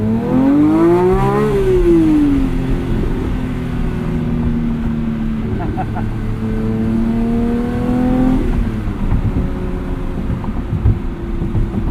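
A manual 2023 Porsche 911 GT3 engine accelerating: a loud, continuous roar that rises sharply, briefly drops with a gear change, then holds a steady high drone with no talk over it.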